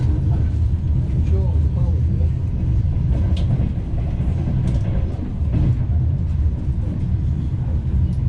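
Ukrainian Railways Tarpan passenger train from Kyiv nearing Odesa, heard from inside the coach as a steady low rumble with faint rattles and clanks running throughout.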